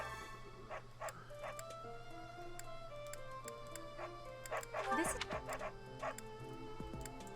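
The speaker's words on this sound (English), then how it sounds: "That dog is going nuts." A dog barks and yips in the Fire Emblem: Three Houses video game, with repeated sharp barks and whimpers over game music and ticking, and a person talking at times.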